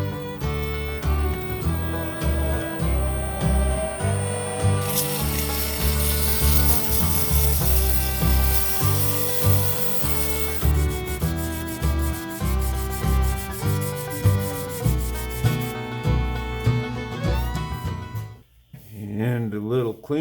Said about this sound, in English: Time for sanding on that one.